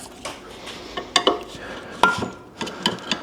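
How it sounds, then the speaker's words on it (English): Nason automotive paint being stirred and mixed, with irregular light clinks and taps of a tool against a container, close and fairly quiet, in short uneven bursts. "We're going to mix up some of this paint right now"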